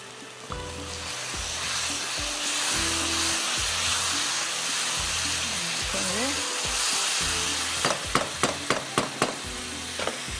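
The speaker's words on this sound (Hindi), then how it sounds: "अब ऑयल गरम करते हैं, इसको करेंगे फ्राई" Masala-coated fish fries in hot oil with a steady sizzling hiss under low background hum, then a quick run of sharp taps and clinks near the end.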